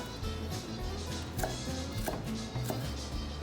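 An onion being chopped with a knife on a board for pico de gallo, a quick run of close, steady cuts and taps, with no voices.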